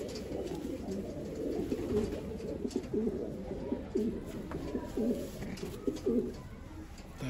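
Racing pigeons cooing inside a loft, repeated soft throaty coos rising over a steady low murmur of background noise, fairly faint and close.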